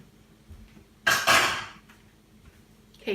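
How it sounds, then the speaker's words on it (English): A metal spoon dropped into a kitchen sink gives one sharp clattering clank and a brief ringing rattle, close and alone amid quiet room sound. "And then I'm going to put this spoon in the sink"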